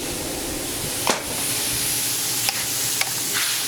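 Red wine and brandy bubble and sizzle hard in a hot pan for beef stroganoff, a loud continuous hiss with a few sharp clinks of a utensil, close up with no talk.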